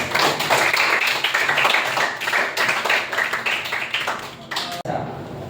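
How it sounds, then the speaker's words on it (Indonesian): A group claps hands in a dense, lively burst, with voices mixed in beneath the applause before it tapers off. "Tepuk tangan dulu."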